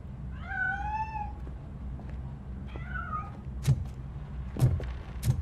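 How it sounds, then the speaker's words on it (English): A cat in the RoboCop: Rogue City video game gives two drawn-out meows, clear and fairly close. A few dull thumps follow in the background. "That cat must be hiding inside."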